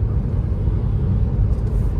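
A car rolls through heavy road traffic leaving Surat, a steady low rumble of engine and road noise filling the cabin without a break.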